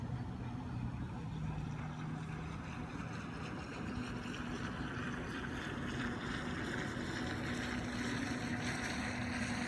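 Small CarpMaster Profi fishing bait boat driven by a Falcon 5010 motor, running on open water: a steady, faint motor hum with low tones persists throughout, mixed with wind noise on the microphone.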